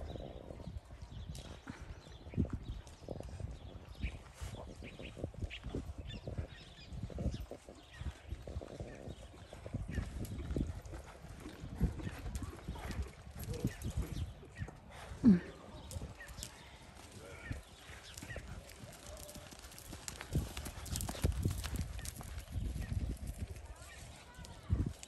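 Horses gallop along a track at Parque Guarani, their hoofbeats a rapid, irregular drumming that stays near and fairly loud for the whole stretch, with voices faintly mixed in.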